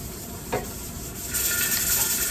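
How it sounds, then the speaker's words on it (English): Cornbread batter, doubled and with baking powder just added, is mixed in a bowl: a brief scrape near the start, then a steady, soft, rough stirring hiss that grows slightly louder and continues alone. "You're doing such a good job mixing this in."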